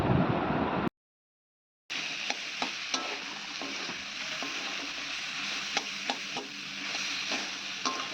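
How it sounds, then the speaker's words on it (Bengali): Thinly sliced bottle gourd fries with boiled potatoes, five-spice and bay leaf in a Bengali lau-alu pan, giving a steady hiss of sizzling with scraping stir clicks, broken by a second of silence near the start. "আর ভালোভাবে লাউটাকে ভেজে আর সিদ্ধ করা আলুগুলো দিয়ে দিলাম, আর একটু ভালোভাবে নেড়ে নিলাম।"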